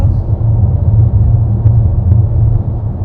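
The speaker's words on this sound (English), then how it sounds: "I feel like there's a bit of road noise coming through." Low, steady rumble of road noise inside a 2025 MG S5 EV while driving on a rough road, a constant cabin drone with no talk.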